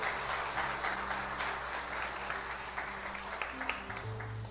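Congregation applauding during a Brazilian evangelical church sermon, a steady wash of clapping from a large crowd with organ or keyboard tones sustained underneath, loud and continuous throughout.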